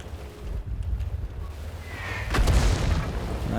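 A tank gun fires in World of Tanks, a single deep boom bursting out midway and trailing into a rumbling decay over windy background noise.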